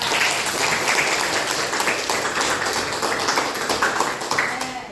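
A room full of people, likely a classroom of teachers, gives a sustained round of clapping that stays fairly even throughout, with a voice or two mixed in underneath.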